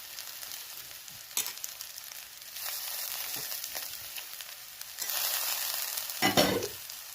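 Soaked poha being stirred together with grated cucumber and coconut, a low rustling hiss punctuated by a few louder scraping stir strokes, close by with no talking.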